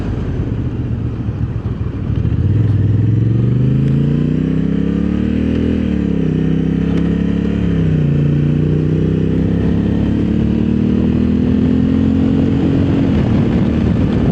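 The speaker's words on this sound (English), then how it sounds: "I hope you can hear that exhaust through this microphone" Honda Africa Twin Adventure Sport DCT or Husqvarna Norden 901 adventure motorcycle exhaust while riding on the road, a loud steady engine drone that rises and falls in pitch with throttle and shifts, close and with no talk.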